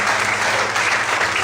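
Dense, steady applause fills a church congregation during a service, broad and continuous from start to end with no voices standing out.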